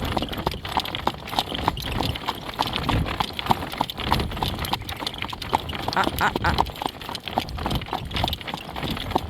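Hoofbeats of a horse at a working trot pulling a cart on a long drive, a steady, quick clip-clop rhythm heard close over continuous rolling and road noise.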